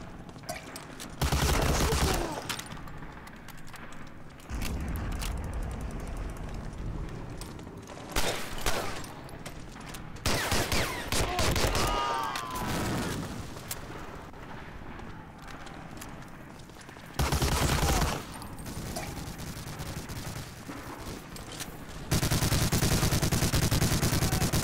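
MG42 machine gun fire during a D-Day battle in the Medal of Honor Allied Assault game: loud bursts of rapid automatic gunfire in several long stretches, separated by quieter moments with distant shots and battle noise.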